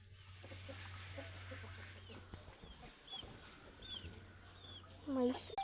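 Faint high peeping of about sixteen chicks and soft hen clucks come and go at a distance, with a louder squawk near the end.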